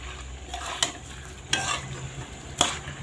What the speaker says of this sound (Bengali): এখন এটা একটু নেড়ে দেবো